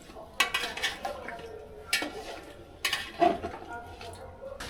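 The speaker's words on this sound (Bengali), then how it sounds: "এই চিকেনটা আবার মশলার ভিতর ভালো করে কষায় নেব।" Fried chicken pieces stirred through spices in a cooking pot, a metal spoon scraping and clanking against the pot in irregular knocks while a voice talks between strokes.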